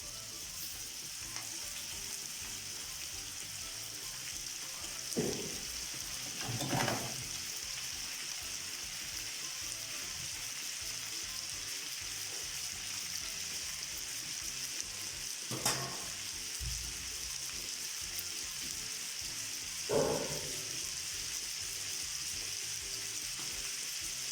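Beef pieces sizzle steadily in hot oil for a wrapped steak with pastirma, a continuous broadband crackle with a few louder utensil scrapes or stirs standing out at intervals.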